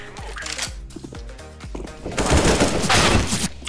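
Gunfire in the video game Counter-Strike: several sharp separate shots, then a dense, loud burst of rapid fire, with faint game sounds between them.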